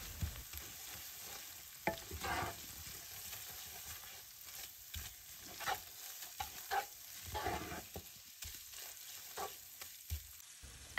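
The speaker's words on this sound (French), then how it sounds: "Quand les oignons sont bien dorés, j'ajoute 2 cuillères à soupe de farine" Browned onions fried with added flour in a pot for soup: soft, scattered stirring scrapes over a faint, quiet sizzle, close but low in level, with no voices.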